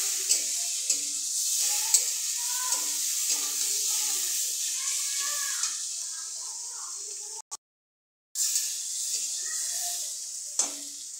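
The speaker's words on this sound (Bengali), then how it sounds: "আর এই যে লঙ্কা গুঁড়ো দিয়ে একটু কষিয়ে নিই।" Curry with chili powder sizzles in a pan on a rainy day, a steady bright hiss broken by the scrapes and taps of stirring, which stops for about a second in the middle.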